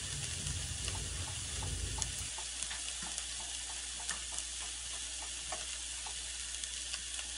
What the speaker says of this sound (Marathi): अशी 2-3 मिनिटांसाठी आपण भेंडी परतून घेणार आहोत।